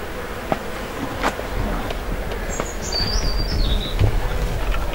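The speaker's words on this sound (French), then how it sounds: "tu les vois partir les essaims quand elles essaiment" Honeybees hum around beehives on a biodynamic honey farm in the Landes, a steady droning buzz with occasional closer passes over background noise and faint bird chirps.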